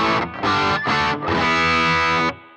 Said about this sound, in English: Let's hear it with some overdrive. So I'm switching over to that X high gain setting.